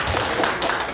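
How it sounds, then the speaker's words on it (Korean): An audience at a startup pitch competition final applauds after a team's presentation, with a brief burst of dense, close clapping. "발표 잘 들었습니다. 박수를 부탁드리겠습니다."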